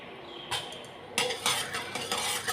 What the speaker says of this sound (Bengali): নুনটা ভালো করে তেলের সঙ্গে মিশিয়ে নিলাম